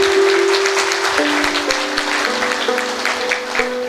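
Audience applause at a Hindu spiritual gathering honouring Jagadguru Janardan Swami Maharaj, a steady wash of clapping heard alone, with a sustained organ-like tone stepping through several notes underneath.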